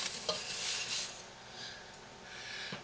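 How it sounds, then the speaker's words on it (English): Four cups of sugar poured into a cooking pot for fudge, a soft granular hiss and rustle that swells and fades, with a couple of faint knocks against the pot, quiet and close. "first thing you do is you add 4 cups of sugar into your pot"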